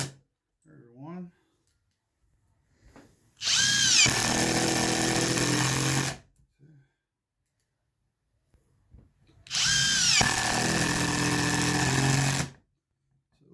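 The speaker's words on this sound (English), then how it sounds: "So it's a pretty powerful little compact impact driver" A Klein high-torque brushless compact impact driver runs two loud, close bursts of about three seconds each as it drives screws into wood that has no pilot holes, with short quiet gaps and faint talk between the bursts.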